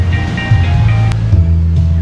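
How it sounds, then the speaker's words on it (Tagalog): Sea waves wash onto the shore at a beach resort in Gonzaga, Cagayan, with a loud, continuous roar of surf and low rumbling water close by, and no talking. "Dito kami sa gilid ng dagat."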